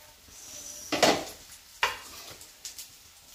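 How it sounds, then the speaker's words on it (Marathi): Surmai fish pieces coated in sticky masala hit hot oil in a pan, with two sharp bursts of sizzle followed by a softer spitting hiss and light clatter. "आणि आता फ्राय करून घेऊया."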